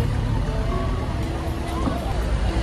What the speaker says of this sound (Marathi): चला एक बोट चालली परत रिटर्न.